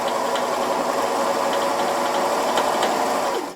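A serger stitches a flatlock edge along fabric, a steady fast mechanical whirr running continuously at close range before stopping abruptly at the end.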